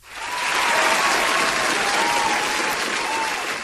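Steady, full applause from a crowd on a radio show, loud and sustained throughout with no gaps, a faint tone running underneath.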